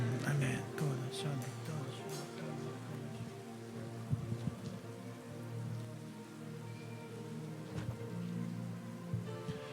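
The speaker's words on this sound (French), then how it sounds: "Béni sois-tu, Seigneur, pour la pluie du ciel." Rain falls steadily onto surfaces during an outdoor Pentecost vigil, a continuous close patter with scattered sharper drop hits throughout.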